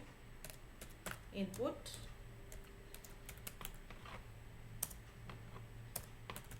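Quiet computer keyboard typing as Python code is entered, rapid scattered clicks under a voice speaking Hindi, with a low steady background hum.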